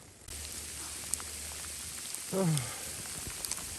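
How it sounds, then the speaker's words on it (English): Steady rain and sleet falling through a forest, a constant soft patter and hiss throughout, with a brief voiced exclamation partway through. "Here getting the rain, sleet, snow, whole nine."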